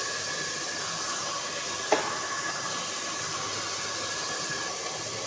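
Spice paste sautéing in a pan, a steady hissing sizzle throughout with a single brief utensil tap near the start, no talk.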